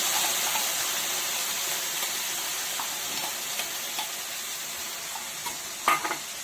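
Ground paste of poppy seed, white mustard, cashew, raisin and chilli going into a hot pan, heard as a steady moderate sizzle with a couple of faint scrapes and a brief clatter near the end.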